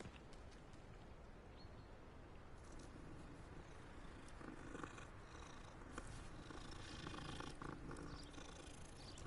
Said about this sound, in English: Oh, it's a kitty. I gotta pet the kitty.